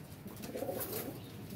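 Sialkoti pigeons give a single soft, throaty coo, close but faint, against a quiet background.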